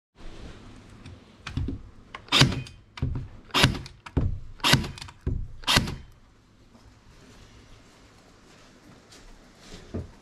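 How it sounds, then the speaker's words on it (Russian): Several sharp, loud percussive shots from a cordless stapler fired in a row at irregular intervals, each a quick thunk with a bright snap, followed by a quieter stretch with faint background noise. "Также очень нравится вот этот аккумуляторный степлер."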